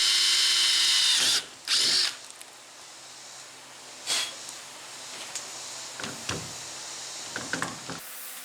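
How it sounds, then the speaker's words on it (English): A power drill whines loudly for a few seconds drilling holes in a metal brake light switch bracket, stops, then briefly restarts, followed by scattered clicks and clunks of handling. "it was time to drill the holes so that the screws could go through the bracket"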